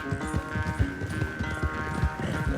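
Horse hooves gallop in a steady clip-clop rhythm during a race in the video game Red Dead Online, close and continuous with a busy background bed.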